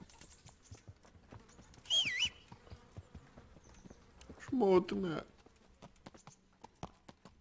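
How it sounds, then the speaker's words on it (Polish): Slow horse hooves clip-clopping in the medieval video game Kingdom Come: Deliverance, a soft steady walking rhythm under game sounds, with a couple of louder whinny-like bursts and someone talking over it. "Czy oni na koniu też muszą tak wolno chodzić?"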